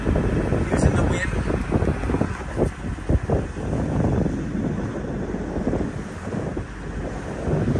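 Strong wind buffets the microphone aboard a Whitby 42 ketch sailing along the Florida coast at speed, a continuous roaring rush with water noise beneath and a voice talking over it.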